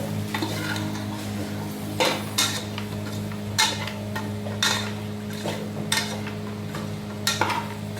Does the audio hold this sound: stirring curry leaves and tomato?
yes